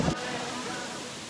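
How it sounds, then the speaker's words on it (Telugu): Mangeli waterfall on the Karnataka–Maharashtra border, shrouded in fog, gives a steady, broad rushing roar of falling water that stays even throughout, after a brief thump at the very start. "మంగళి వాటర్ ఫాల్స్ కి రీచ్ అయ్యాము"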